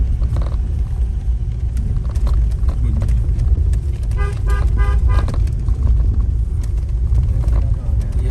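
A vehicle climbs the 36 hairpin bends road to Chiyalekh on the Kailash Mansarovar route, its engine rumbling steadily with road noise throughout, while a horn gives a cluster of short toots midway and people talk over it.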